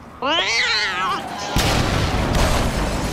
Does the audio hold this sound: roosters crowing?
no